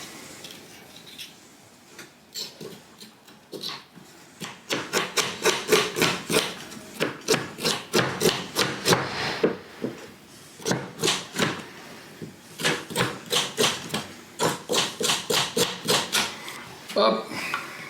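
Vegetables are peeled by hand for Nepalese pork and shrimp momo, giving close, rhythmic scraping strokes in quick bursts with short pauses between runs.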